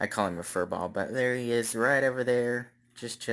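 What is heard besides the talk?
No distinct noise like a dog, phone or traffic.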